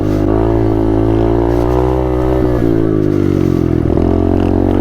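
A small pit bike engine buzzes loudly and steadily up close while being ridden, a continuous harmonic drone whose pitch dips briefly twice as the throttle eases, with no voices over it.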